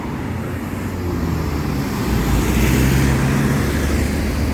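A bus engine rumbles loudly nearby, building slightly as it passes amid steady city traffic noise.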